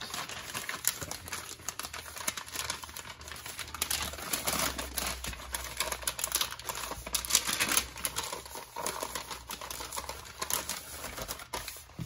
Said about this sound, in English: we'll just wrap this up, kind of like a meat Christmas gift.